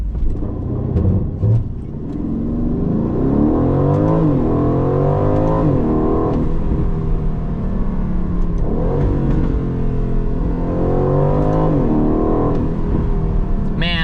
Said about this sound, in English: you can put it into track mode, open up those exhaust valves, and have way more fun.